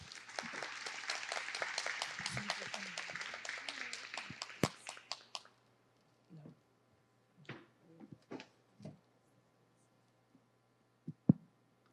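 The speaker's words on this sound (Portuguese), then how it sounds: "Palmas, pessoal." Audience at a lecture welcomes a speaker with applause, dense clapping for about five seconds that fades out, followed by scattered handling knocks and clicks in a quiet room.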